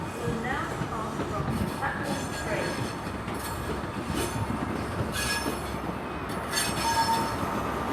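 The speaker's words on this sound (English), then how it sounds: "The HST Bristol Temple Meads to London Paddington" An HST passenger train moves through Bristol Temple Meads station, with steady rumbling wheel and engine noise throughout and brief higher squeals from the rails, heard fairly close with faint background voices.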